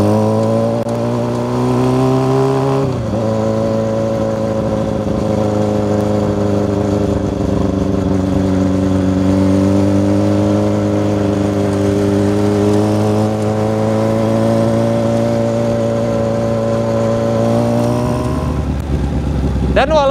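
Steady, loud custom exhaust on a Honda CB400 bobber motorcycle idling with a deep rumble, revving up at the start and again near the end, close by.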